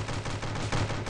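The Heavyfire gun in Stick Warfare Blood Strike fires a quick, continuous burst of loud shots in a short, sustained volley.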